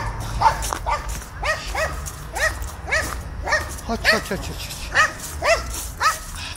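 Small dogs bark in a steady series of sharp, close yaps, roughly two per second, while a person speaks briefly over them outdoors on a path.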